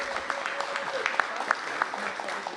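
A crowd at a Washington, D.C. mayoral announcement on the minimum-wage deal applauds steadily throughout, a continuous patter of many hands with a voice talking over it.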